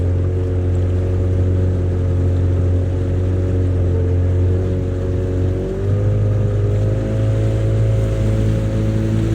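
A motor drones steadily on the water beside oyster racks, a loud low continuous hum with a slight shift in pitch midway and no speech.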